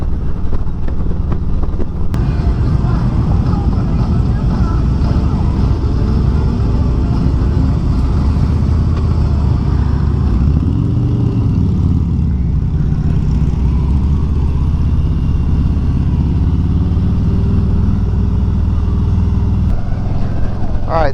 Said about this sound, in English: here we are arriving with a bunch of other bikes